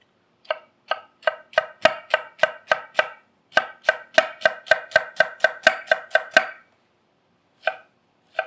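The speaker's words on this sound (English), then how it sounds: "I'm going to cut the fennel in half, so it's not super long strips" A knife chops fennel on a cutting board in a steady run of sharp, close knocks, about twenty in quick rhythm with a short pause partway and two last cuts after a gap, with no voices.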